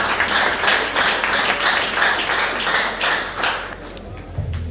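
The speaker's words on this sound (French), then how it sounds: "On nous applaudit bon Dieu." A church congregation at an annual evening conference claps along, steady rhythmic applause filling the room at moderate loudness, with scattered sharp taps and no clear speech over it.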